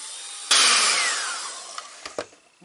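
An electric mixer creams ingredients for a no-egg, no-bake cookie dough. It kicks on abruptly with a loud whirring drone whose pitch slowly sinks, then cuts out, followed by a few light knocks against the bowl.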